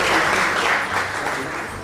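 Conference audience giving a round of applause, dense continuous clapping filling a short stretch at steady loudness.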